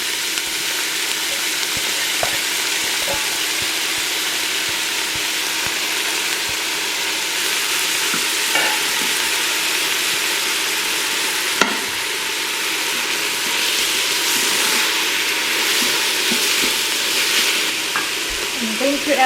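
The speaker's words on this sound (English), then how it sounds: "As you can see, the garlic has started turning brown already." Garlic and added ingredients fry and are stirred inside a Simfonio Simpot 8-quart electric pressure cooker, a continuous loud sizzle broken by occasional scrapes and clinks of the utensil, with no talk.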